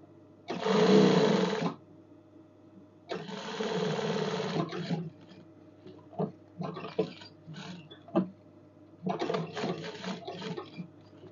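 A sewing machine stitches a night dress close up, with several loud whirring runs of one to two seconds, then shorter stop-start bursts and pauses between them.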